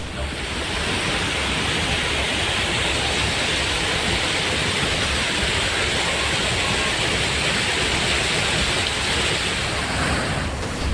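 A flooded waterfall at Mahadev Khoh near Nauhatta in Rohtas roars with a continuous, loud, broadband rush of heavy falling water, unbroken throughout.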